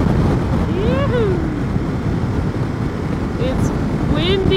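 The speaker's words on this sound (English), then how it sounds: "It's windy" Strong wind buffets the microphone during a motorcycle ride in the snowy Swiss Alps near Great St Bernard, a constant close roar with a rider's voice calling out over it.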